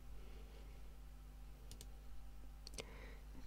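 A few sharp computer mouse clicks while confirming an OK button in a document's style settings, quiet, close and isolated against a low steady hum.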